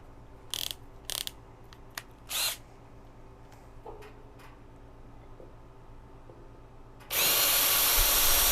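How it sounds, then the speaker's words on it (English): A power drill boring holes to mount a griddle mat rack: several short bursts of drilling in the first few seconds, then a sustained loud run of the drill near the end. "let's get our holes drilled"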